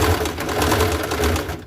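A sewing machine runs a regular straight stitch about a quarter inch from the fabric edge for the first pass of a French seam: a steady, close mechanical whir that continues for almost two seconds and then stops, with no talking.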